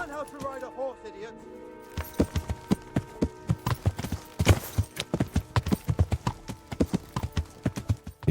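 Horse hooves clip-clop at a steady riding pace along a town street in the video game Kingdom Come Deliverance, a close, clear rhythm that follows a brief musical tone at the start.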